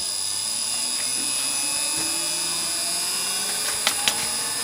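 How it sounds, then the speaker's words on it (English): A wood lathe spins a pen blank with a steady, high mechanical whine and hum, continuous and fairly loud, with a couple of small clicks near the end. "You start your lathe."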